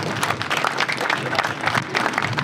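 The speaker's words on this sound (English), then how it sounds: "I want a big round of applause for the reigning IBF Super Bantamweight World Champion from Ireland, TJ Dehenny." Dense, loud applause from an audience at a rooftop boxing press conference, steady and unbroken with some whoops, close and filling the space, with no speech over it.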